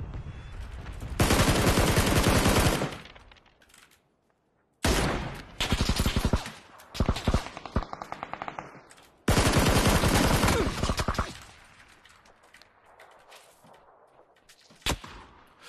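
Bursts of automatic gunfire from a PUBG match rattle loud and close in several long sustained volleys separated by pauses, with a few quieter scattered shots in between.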